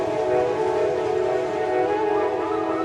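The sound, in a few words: Darjeeling Himalayan Railway small train passing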